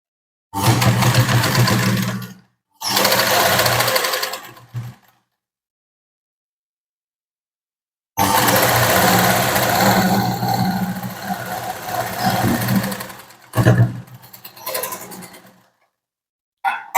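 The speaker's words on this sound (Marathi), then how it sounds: "आता आपल्याला त्याच्यावरतीहूनच शिलाई मारायची आहे" An electric sewing machine runs a line of stitching along the marked fitting line of a katori blouse. Its close, steady motor whir comes in several separate bursts broken by short silent pauses, with no talking.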